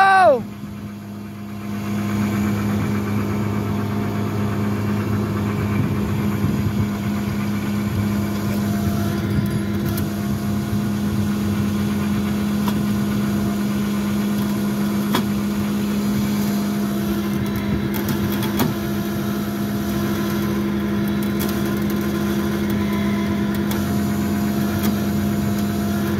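A tow truck engine running near a tram line, a steady low rumbling drone with a strong hum that holds fairly constant throughout, with brief shifts in intensity and occasional background voices.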